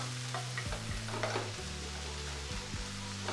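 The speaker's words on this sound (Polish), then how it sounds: "Cebula i pieczarki niech się podsmażają." Onions and mushrooms frying together in a pan give a steady, dense sizzle with occasional soft scrapes and clicks from stirring, beneath a low constant hum.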